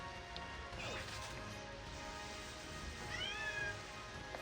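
A pet cat meows a couple of times, short rising cries over a faint indoor background hum, with a thump near the start.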